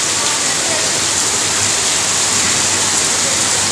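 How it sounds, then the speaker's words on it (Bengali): Heavy rain falls in Chennai, heard from a balcony as a loud, unbroken wash of hissing noise from drops pouring down, continuous and close for the whole stretch. "কি পরিমাণ বৃষ্টি হচ্ছে।"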